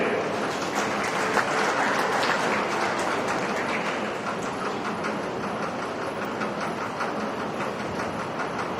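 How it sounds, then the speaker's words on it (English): A crowd at a cattle show applauds a group of heifers in the ring, a broad, continuous wash of clapping that stays full and even throughout, with no one speaking over it. "Let's give them a big round of applause"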